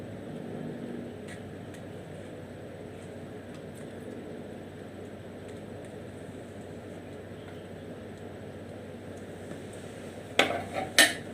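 A spoon clinks against a glass twice near the end while dragon fruit extract is stirred into vinegar, sharp bright taps after a long quiet stretch of low background hum.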